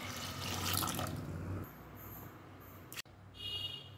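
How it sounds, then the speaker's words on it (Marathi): Water is poured from close by into a pressure cooker holding washed chana dal, about a litre in all. A loud, broad rush lasts over a second, then settles into a softer, steady trickle with a brief clatter near the end. "यामध्ये पाणी घालायचं आहे।"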